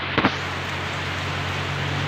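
Steady morning rain falls without pause under an overcast sky, a continuous broadband hiss with a low background hum and a couple of brief knocks near the start.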